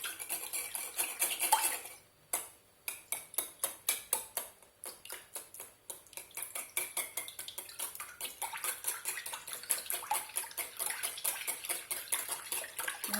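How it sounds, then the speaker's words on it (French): A whisk beats milk with melted sugar in a mixing bowl for berry muffin batter, producing quick, steady clinking strokes against the bowl that run continuously with one brief pause, close and clear with no talking. "Et donc maintenant on va fouetter le tout."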